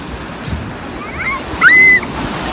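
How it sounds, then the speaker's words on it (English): Rough surf at a Jamaican beach during hurricane season, a low rumbling wash of waves with wind buffeting the microphone and a brief higher voice-like cry near the end. "But take in the freaking waves."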